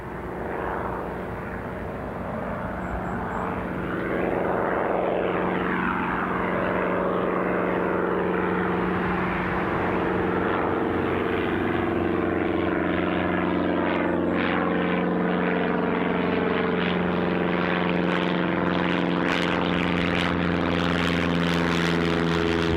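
A light propeller training aircraft on a lesson flight passes directly overhead at Newcastle Airport, its buzzing engine drone building from a distance to loud and close, sweeping in pitch as it flies over.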